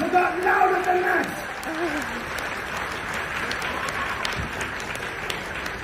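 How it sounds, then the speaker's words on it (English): Audience at a magic show aboard the Royal Caribbean cruise ship Quantum of the Seas bursts into loud applause with whoops and cheers at the start, then the clapping settles into a steady, fading patter. "I too forgot to clap. Oh, come on, I forgot louder than that."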